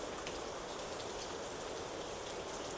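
Steady rain falling in a video game, a continuous dense hiss of drops on surfaces, even and unbroken throughout with no voices.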